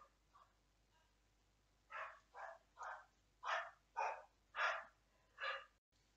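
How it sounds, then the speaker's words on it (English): A dog barks in a run of about eight sharp, fairly close woofs spaced roughly half a second apart, with a couple of softer yips beforehand, alone with no talking. "The dog was barking like really bad."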